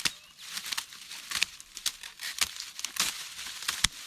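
Dead grass from last year is cut back by hand in a garden, producing a quiet run of crisp, papery snips and rustling crunches at an irregular rhythm, close and alone.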